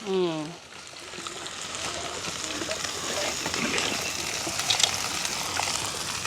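Drumstick pods and jackfruit seeds cooking in a pot in a village kitchen give off a steady sizzle and bubbling simmer that runs throughout, after a brief voice at the very start.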